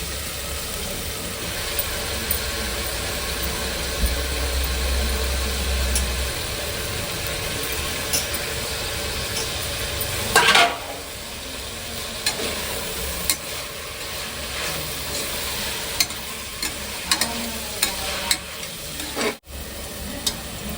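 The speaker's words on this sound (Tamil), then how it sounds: "புதினா கொத்தமல்லி போட்டு இருக்கோம்பா அது கொஞ்சம் நல்லா வதங்கட்டும்" Mint and coriander sauté with tomatoes in a pan for a mutton cooker biryani, giving a steady close sizzle with occasional stirring scrapes and clicks over a low hum. The sizzle is continuous throughout, with no speech.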